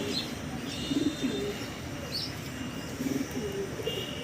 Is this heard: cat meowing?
no